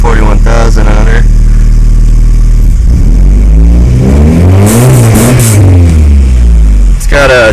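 A 1993 Honda Accord CB7 with a JDM H22A engine and chipped P28 ECU cold-starts after a starter crank, then settles into a loud, steady, high idle that holds close and continuous.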